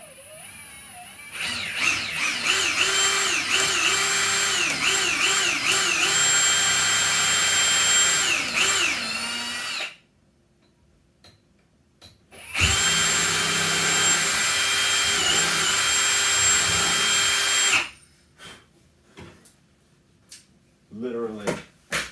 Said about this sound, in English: Let me drill the hole.